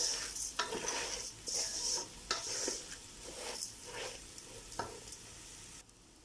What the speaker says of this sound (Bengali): চাল ডাল ভাজা হয়ে গিয়েছে